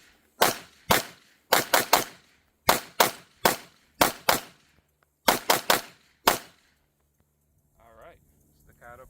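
Rapid pistol fire from a Staccato P, a 2011-style handgun with several thousand rounds through it: about fifteen loud, sharp shots in quick strings of two and three, each with a short decay, followed by faint talking at the end.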